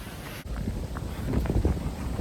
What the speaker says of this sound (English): Wow, it's really cold, windy today